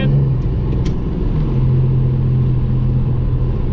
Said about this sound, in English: she spools up fast